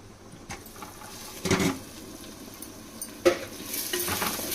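Tomato puree frying in a pot while being stirred for clay-pot fish biryani: a steady close sizzle with scraping stir strokes, two louder scrapes standing out.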